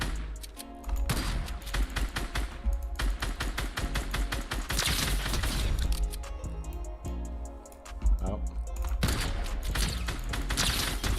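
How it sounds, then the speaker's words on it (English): Rapid bursts of AR assault rifle fire in Fortnite, aimed at bots bouncing around a free-play practice area, with several loud volleys separated by brief pauses throughout. "you can shoot them with your AR"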